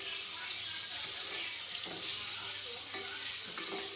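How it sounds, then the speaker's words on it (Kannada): Onions fry in hot oil for tomato bath, a steady dense sizzle with occasional soft stirring scrapes, close and even throughout. "ಈರುಳ್ಳಿ ಕಲರ್ ಚೇಂಜ್ ಆಗೋ ತನಕ ಫ್ರೈ ಮಾಡ್ಕೊಬೇಕು"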